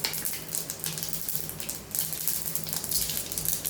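Mustard seeds and urad dal sizzle steadily in a small amount of hot oil, tempering for a green bean poriyal; a continuous close crackling hiss with no voices.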